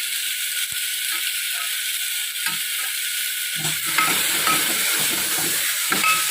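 Tomatoes hit a hot pan and fry with a steady sizzle throughout, joined near the end by louder scraping and clattering as they are stirred, during a home cooking session preparing a curry from leftover pakoras.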